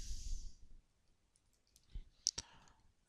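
A few quiet mouse clicks on a computer while selecting a name, brief sharp taps near the end after a short breathy noise, with near silence between.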